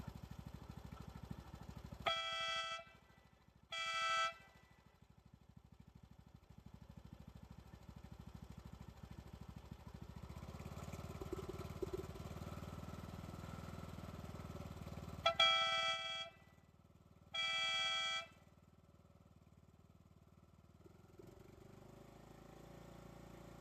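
Loud electric horn wired onto a lawnmower blares in four bursts, two short and two longer, over the steady drone of the running mower engine nearby.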